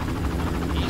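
Helicopter in the Far Cry game, a steady loud rotor and engine roar throbbing with a fast pulse over a short moment, no voices.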